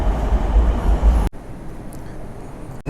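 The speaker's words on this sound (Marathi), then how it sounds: "आली आपली मेट्रो स्वारगेटकडे जाणारी." A Pune metro train bound for Swargate pulls into an underground station, giving a loud, steady low rumble that cuts off abruptly partway through, leaving quieter station ambience.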